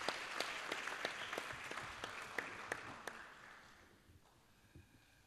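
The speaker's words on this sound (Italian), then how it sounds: "fate un applauso, fategli un applauso, lo merita" Audience applause at an Italian weekly newspaper event in Pesaro, honoring a guest, a steady patter of many hands that thins and fades toward the end.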